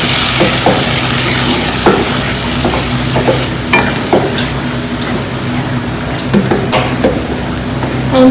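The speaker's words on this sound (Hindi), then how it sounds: "और इसे अच्छे से मिक्स" Mushroom masala stirring and frying in a pan: a loud, constant sizzle with repeated scrapes and taps of the spoon against the pan.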